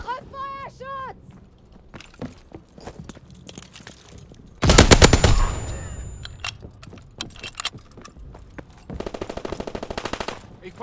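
Gunfire in the World War II shooter game Call of Duty: WWII, with a long, loud burst of rapid automatic fire midway, then scattered sharp shots and a fast rattling volley near the end, amid game sounds and a voice.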